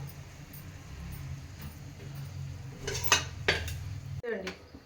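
A kadai is picked up and handled on the stove: soft metallic clinks and scrapes over a low hum, then two sharper clanks close together and a final knock as it is set down.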